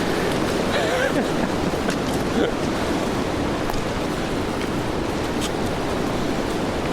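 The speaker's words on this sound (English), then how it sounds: "look at that wind" Steady, roaring wind over 50 miles per hour buffets the microphone on a hiking trail, a dense rushing noise with little letup and no distinct gusts rising above it.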